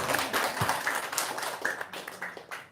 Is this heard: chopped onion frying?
no